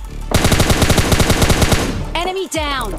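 Loud automatic gunfire rips out in a rapid, steady burst during a fight in a battle royale video game, followed by sharper whooshing and zapping game effects; close and dominant, with no voices.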